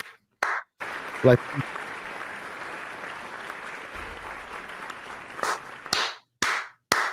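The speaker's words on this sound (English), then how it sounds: "And a round of applause for him." Audience applause: a steady wash of many hands clapping lasts several seconds at moderate volume, with short bursts of voices just before and after it.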